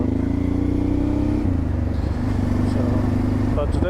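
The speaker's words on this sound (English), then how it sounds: "other times just listening to the exhaust of the good old TRANSALP" Engine drone from a Honda Transalp motorcycle while riding, a steady loud exhaust tone with slight pitch shifts and brief dips as the rider changes throttle, heard from the helmet over constant wind and road noise.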